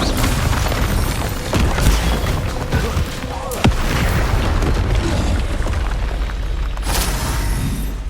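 Incendio fire spell cast in the Hogwarts Legacy video game, a loud continuous roaring whoosh of flame and rumbling bursts with a sharp crack midway, dense and sustained throughout.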